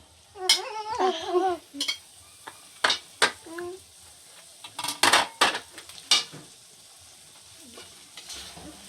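Octopus and mussels with glass noodles being stirred in a frying pan, giving bursts of sizzling and utensil scrapes against the pan, with a voice heard early on.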